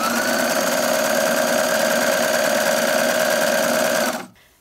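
A sewing machine fitted with a knit presser foot stitches a 5/8 seam in one loud, continuous, even mechanical whir that cuts off abruptly near the end.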